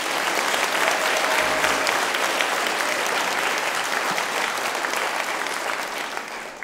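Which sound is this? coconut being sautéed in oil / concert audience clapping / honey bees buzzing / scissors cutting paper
concert audience clapping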